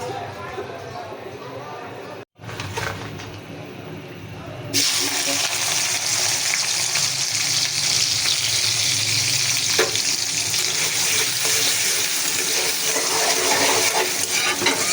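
Taro leaves going into an old iron wok, with frying hiss that swells loudly partway through and continues steadily, stirring noises mixed in, while a person talks over it.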